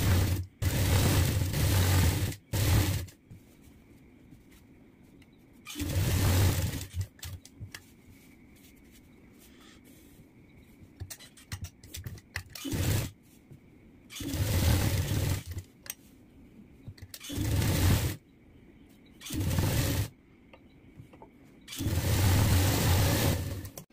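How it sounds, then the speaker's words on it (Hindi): A sewing machine stitches the edge of churidar fabric in several loud bursts of rapid running, with quieter pauses between the runs. "और पहले देखो हम इसके किनारे पे एक सिलाई लगा लेंगे।"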